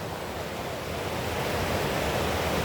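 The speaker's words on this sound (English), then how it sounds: "Look at that nice waterfall." A waterfall on a steep nature trail rushes in a dense, continuous broadband roar, loud and unchanging with no pauses and no voices.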